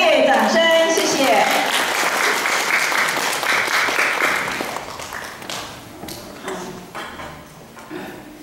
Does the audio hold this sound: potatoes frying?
no